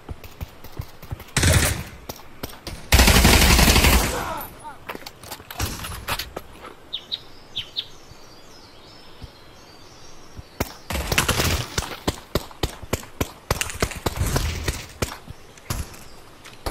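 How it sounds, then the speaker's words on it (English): Pistol fire in the VR shooter Pavlov VR rings out in sharp, loud single shots and rapid clusters, with bursts of heavier gunfire, scattered across a noisy multiplayer match with brief gaps between volleys. "Gotten 2 kills with the pistol so far"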